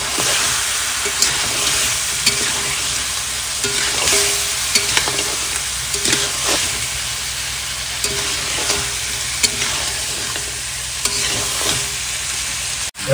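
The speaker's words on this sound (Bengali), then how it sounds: "এবার কাঁকড়া দিয়ে দেবো।" Tiger crabs tipped into spiced potatoes frying in a pan and stirred, a loud dense sizzle with repeated stirring scrapes and clatter, close, continuous and without talking.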